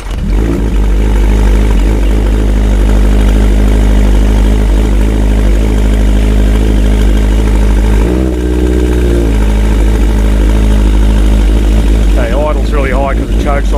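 A Yamaha XS1100 cafe racer motorcycle idles high on choke with a steady, loud, close engine drone, its pitch dipping briefly partway, while someone talks over it.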